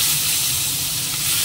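Fish heads dropped into hot oil with fried cumin, a loud steady sizzle and hiss filling the pan without pause, close and with no voices.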